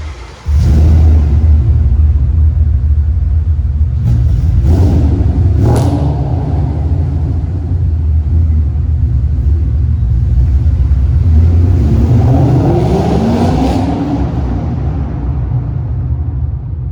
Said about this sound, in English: I'll try to get a sound clip for you of how the exhaust sounds.